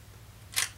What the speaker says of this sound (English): you can hear the shutter was open for much longer then